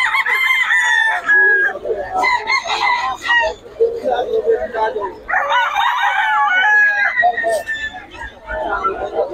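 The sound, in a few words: stag rooster crowing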